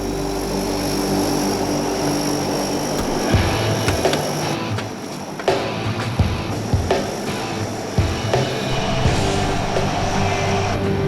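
Propeller engines of a Lockheed Electra airliner running on the ground on an ice strip, a loud, steady droning roar with a whining tone and occasional surges, close and continuous, no talk.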